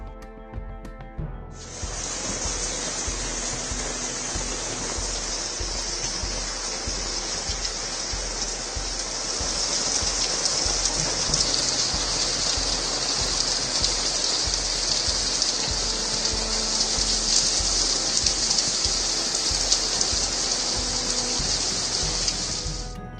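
Heavy rain from Cyclone Asani pours down in Bengal as a dense, steady hiss of water on surfaces that grows a little louder partway through, with no voices.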